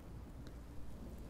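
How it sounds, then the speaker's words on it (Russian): Steady rain in Minecraft Story Mode patters in a dense, even wash of noise, moderately loud, with a low rumble underneath and no voices. "Ой, дождик."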